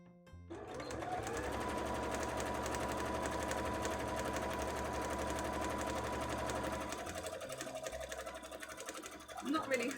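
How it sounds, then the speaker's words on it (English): Sewing machine running steadily as it restitches a line on a cosplay petticoat, a fast even whirring hum lasting most of the stretch before slowing near the end, with faint talk underneath. "I'm not really happy with that first line of stitching there, which is why I'm sewing it again."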